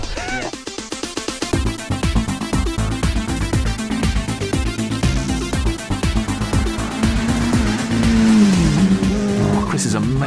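Modified Mini race car on a track, its engine rev limit at 11,000 RPM: a loud, rasping high-revving engine with rapid gear changes and rising pitch, plus tyre squeal, passing close with a rising, sustained roar.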